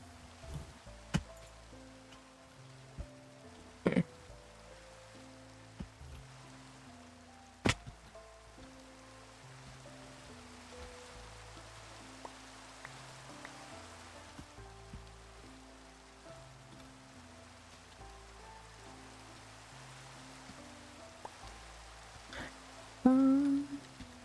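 Faint, steady patter of rain in the Minecraft video game, running low and continuous through the whole stretch, with a few sharp clicks and game sounds popping out above it.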